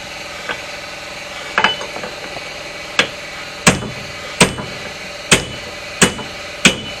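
A brake rotor is knocked off the wheel hub of a Chevrolet Equinox with a series of about eight sharp metallic hammer strikes that come closer together toward the end, over a low background hum.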